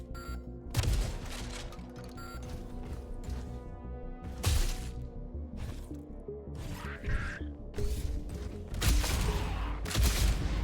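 Rocket launcher fired repeatedly in a fast first-person shooter video game, heard as a string of loud, close explosive bursts and blasts over a constant busy game soundscape.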